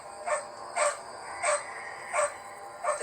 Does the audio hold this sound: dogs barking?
yes